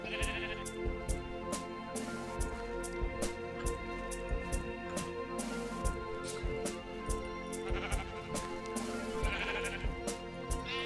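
Repeated sheep bleats from a Terra Firma Craft block-world game, sounding at a steady, near-regular rhythm over a continuous game backdrop, fairly loud and close throughout with no talking.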